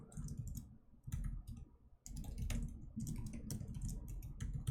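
Fast typing on a computer keyboard during a coding contest, close, quiet clicky keystrokes in rapid bursts with brief pauses between.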